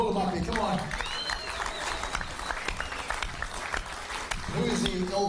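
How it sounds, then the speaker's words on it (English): Audience applause for a rugby league player being called up on stage at a Parramatta awards night, a steady wash of claps from the crowd lasting several seconds, with voices talking over it near the start and end. "give him a round of applause"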